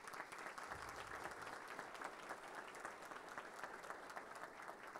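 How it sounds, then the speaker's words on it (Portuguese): An audience at a formal evening awards session of a municipal legislature applauds, producing a steady wash of many hands clapping with no speech over it. "eu gostaria de uma salva de palmas a todos eles que serão homenageados nesta noite"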